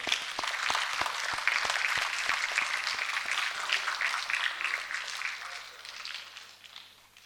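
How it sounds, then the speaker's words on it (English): Sustained audience applause at a talk event welcoming a speaker host on stage. It is a dense, steady clatter of many hands with a few sharper nearby claps early on, holding loud before slowly thinning toward the end. "with another thunderous round of applause"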